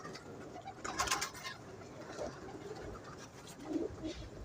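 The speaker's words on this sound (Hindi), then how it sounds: "बहुत अच्छा कबूतर है।" Soft, low cooing from a pigeon, repeated a few times at moderate distance, with faint rustling and background noise.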